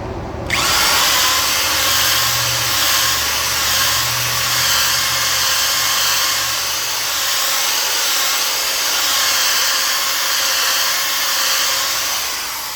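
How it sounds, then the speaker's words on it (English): A power polisher with a Meguiar's polishing pad buffs car paint, whirring steadily and loudly throughout, a high continuous motor drone with a low hum underneath, with no talking. "So we're using Meguiar's polishing pad, power tool"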